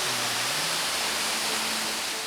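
Roaring rush of water from an uncharted waterfall near Niagara Falls, a steady broadband wash that is loud and continuous from start to finish, with a faint tone or voice underneath.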